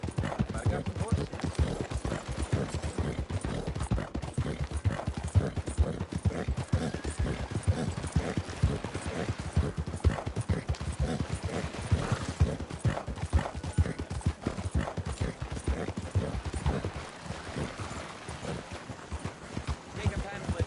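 Horse hooves clip-clop steadily and rapidly throughout, fairly close, with faint background noise and occasional voices.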